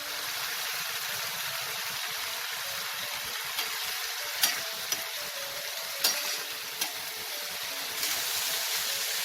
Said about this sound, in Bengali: কয়েক সেকেন্ডের মতো এটাকে নাড়াচাড়া করে নিয়ে